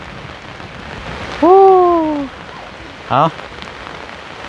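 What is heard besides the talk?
rain falling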